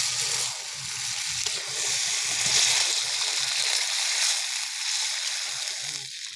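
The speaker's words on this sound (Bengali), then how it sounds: "এখন আমরা জল দিয়ে দেবো।" Water goes into a pan of browned egg curry, a steady bubbling sizzle and splashy hiss running the whole time, loud and close, with a brief faint voice underneath.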